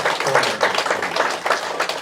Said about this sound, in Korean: 우리 주님의 손으로 이렇게 박수 한번 하겠습니다